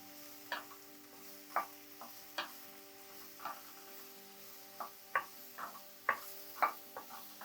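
Mushroom pieces fry in a pan, with quiet sizzling broken by scattered sharp pops and stirring clicks at irregular intervals, close by and fairly soft.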